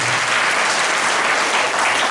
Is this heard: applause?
yes